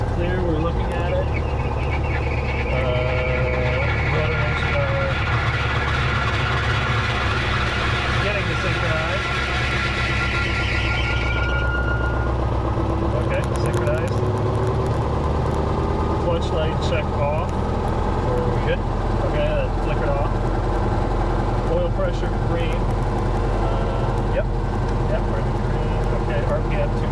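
A Guimbal Cabri G2 helicopter engine runs steadily with its rotor clutch engaged, a loud continuous mechanical drone with a high whine that fades out partway through, while voices talk over it on the intercom.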